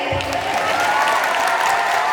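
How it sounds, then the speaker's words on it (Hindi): A short burst of steady clapping from a wedding sangeet audience, dense and continuous, filling the space for a couple of seconds. "तालियां तो बजाइए।"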